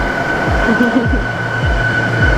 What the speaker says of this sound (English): my train's here, let me show you guys. Here's my train!